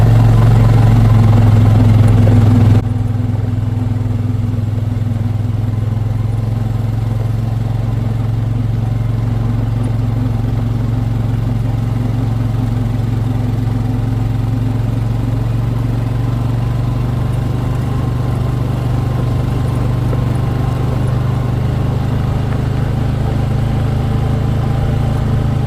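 Vehicle engine running steadily on a morning ride toward a mountain road, a loud continuous low drone with a slight drop in level early on, no voices.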